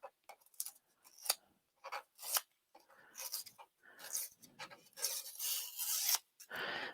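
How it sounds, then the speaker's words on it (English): Scissors trim the edges of a handmade journal with a sari silk closure: a close run of short, crisp snips and rubbing cuts in irregular bursts, with no talking. "I'll use my scissors to clean it up"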